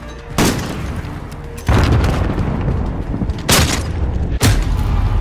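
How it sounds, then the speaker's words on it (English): A grenade explodes in the Modern Warfare video game with heavy, loud booms, several broadband blasts and rumbling bursts in quick succession over a few seconds. "Grenade out."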